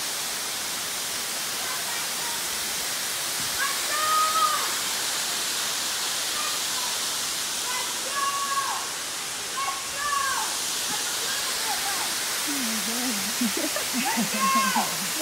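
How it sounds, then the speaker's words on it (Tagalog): Tiffany Falls waterfall in Hamilton rushes as a steady, broad hiss that fills the scene from start to finish, while people talk now and then over it. "So this is the Tiffany Falls"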